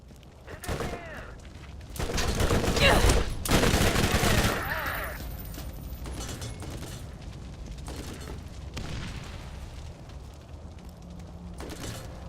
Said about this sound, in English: You're just going to keep firing at me while I'm trying to do things, aren't you?